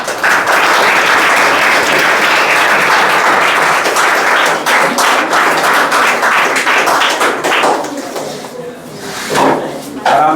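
Classroom applause for a prize-winning student at a weekly school prize distribution, steady dense clapping from a group of children with a teacher's voice in the background, thinning toward the end.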